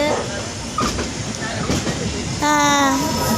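A train rumbles along with a steady rolling roar and rattling, loud and near, while people talk over it and a high tonal squeal or whistle rises near the end.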